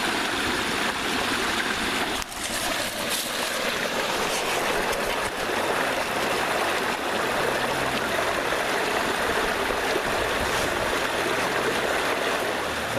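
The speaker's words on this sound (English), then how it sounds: "I'm hearing a lot of running water over there to the left." Running water of a small woodland stream beside a hiking trail, a steady broadband rush that fills the whole stretch without pause, moderately close and unbroken by voices.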